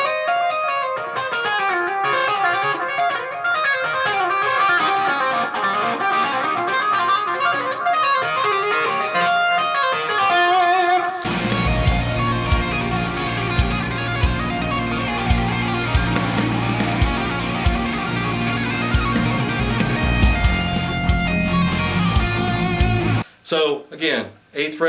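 Distorted electric guitar plays a minor-key solo with fast tapped runs, sustained and loud, joined midway by heavier, fuller backing that thickens the sound before an abrupt stop.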